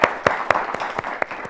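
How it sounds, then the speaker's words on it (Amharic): An audience on the Ethiopian children's TV show Yelijoch Alem claps for a young girl, a rapid, fairly even run of sharp claps, about four per second, close and crisp. "በደንብ አጨብጭቡላት በደንብ።"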